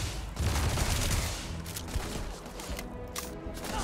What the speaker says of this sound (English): Okay, this is a machine gun now